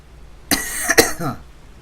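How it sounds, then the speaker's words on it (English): A single close cough with a harsh burst and a rasping catch, then a brief throat-clearing tail. "There's your cough."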